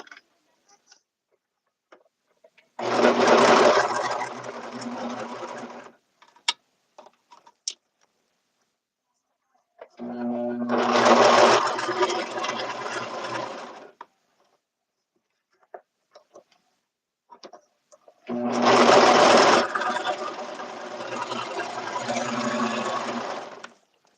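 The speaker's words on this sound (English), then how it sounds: "So I'm going to serge them open just like I pressed them." A serger runs in three bursts of several seconds each, stitching suit seams open, with a fast steady whirring. Quiet pauses between the runs hold small handling clicks.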